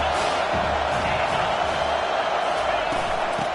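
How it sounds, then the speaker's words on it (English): A packed stadium crowd at a College of Charleston at South Carolina football game roars on third down, a dense, loud, continuous wall of noise that holds steady throughout. "this crowd is tearing the lid off this place"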